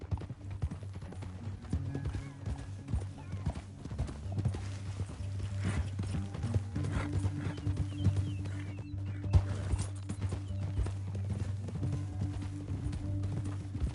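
Horse hooves clip-clop steadily through a Red Dead Redemption 2 game scene, layered over a low droning score, with an occasional whinny and a faint, brief voice.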